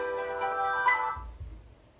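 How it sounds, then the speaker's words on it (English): A mobile phone rings with a bright, repeating electronic tone that fades out, followed by faint low rumbling, with no voices over it. "Why is my phone going off?"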